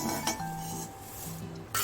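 Roasted curry leaves are scraped from a pan into a dish, with two sharp metallic clinks of utensil on pan at the start and end and soft rustling between.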